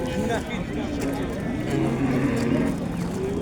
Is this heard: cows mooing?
yes